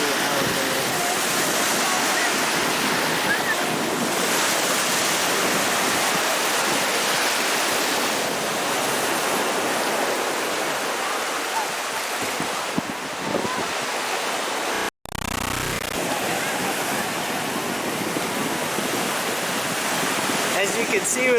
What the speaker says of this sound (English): it is pretty windy out here, but totally worth the drive.